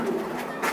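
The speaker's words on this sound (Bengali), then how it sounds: "এটা একটা নর কবুতর ভাই" A male racing pigeon of a well-known bloodline gives a short, soft coo up close, a brief low murmur with a slight rise near the end.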